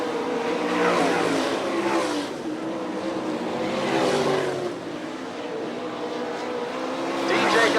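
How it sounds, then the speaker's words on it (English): Sprint race cars at a dirt speedway in Fremont, Ohio, roaring in a steady loud drone that swells and fades as the pack passes, with an announcer's voice faintly mixed beneath. "And Rodney Duncan pulls a big wheelie off of turn 4"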